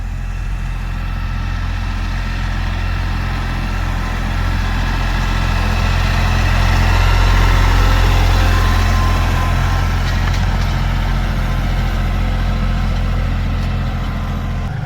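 A tractor fitted with a ballast box idles steadily at close range while being hitched to a trailer for a load of boiler wood in a firewood yard, a loud continuous low engine rumble that swells slightly mid-way.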